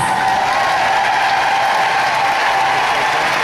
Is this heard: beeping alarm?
no